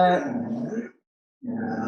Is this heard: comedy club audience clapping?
no